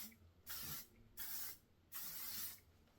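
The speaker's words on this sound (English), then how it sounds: "Low key, you just spray a little bit farther away." Makeup setting spray mists out in three short, breathy hisses, each lasting about half a second with brief gaps between, close and clear with no talking.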